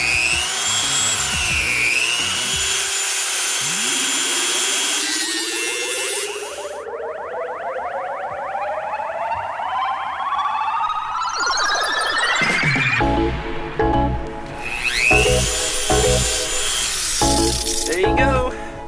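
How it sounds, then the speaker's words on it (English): A Dremel rotary tool whines as it cuts an oil cooler hose to length during an E30 turbo build, its pitch rising and falling as the bit bites and frees up, with brief talk in between. "we're going to go ahead and cut the actual length now with the Dremel"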